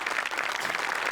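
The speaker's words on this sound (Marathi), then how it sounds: "टाळ्या" A studio audience at a Marathi comedy show claps in a brief, dense burst of applause, steady and fairly close throughout.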